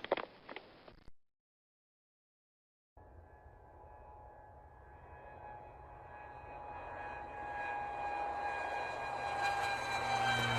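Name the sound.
airplane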